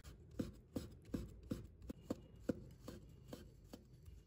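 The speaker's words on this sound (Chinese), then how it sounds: "接着我们再准备3个香菇，把它切成薄片" A knife slicing shiitake mushrooms into thin slices on a cutting board, a steady run of about ten soft, evenly spaced chopping taps, close and quiet with no speech.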